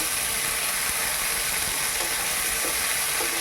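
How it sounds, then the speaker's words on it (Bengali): Ginger and garlic paste frying in a pan, a dense, even hiss of sizzling that stays constant throughout with faint scraping ticks, close up and without any voices. "রসুন বাটা আদা বাটা আদা রসুনটাকে আমি ভালো করে ভেজে নেবো"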